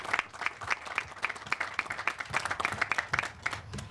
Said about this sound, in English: I really think we've got to give them a big round of applause